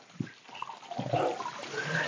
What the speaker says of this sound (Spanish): ya hemos llegado a la fuente de esta agua de nacimiento.